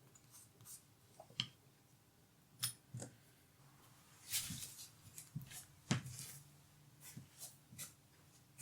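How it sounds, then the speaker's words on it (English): A lino cutting tool gouges and shaves a linoleum block for a multi-block print, cutting fine detail, giving quiet scattered scratches and short scraping strokes at irregular intervals, close and faint with no talking. "I'm doing a cut and then I'm using the tool to run along that cut and shave a bit more away each time"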